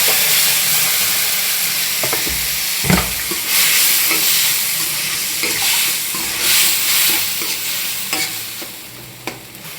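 Tomatoes sizzle and fry in a pan over onions that were sautéed until soft, with steady crackling, occasional stirring clatter and a sharp clink near the start, all close and fairly loud with no talking.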